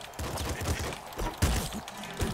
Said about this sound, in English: Shoot this dude